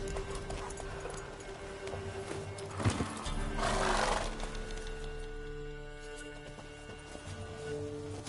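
Roach the horse in The Witcher 3 whinnies once near the middle, a short rising neigh with snorting breath, set over hoof clip-clop and a steady low game ambience.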